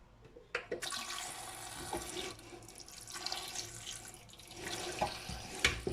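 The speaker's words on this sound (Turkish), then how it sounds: "Şuradan tatlı su dolduruyorum." Fresh water runs from a tap into a container on a balcony, a steady rushing splash with a few clunks and knocks, continuing throughout with no talking.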